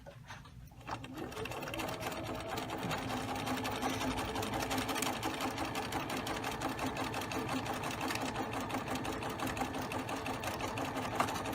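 A sewing machine stitches a buttonhole in khaki thread on a pair of shorts, starting after a brief pause and then running as a steady, close mechanical whir with a fast rhythmic needle clatter until the end.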